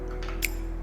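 Scissors snip once through macrame cord while a bracelet is being made at home, a single short, crisp cut close by with a faint steady hum underneath.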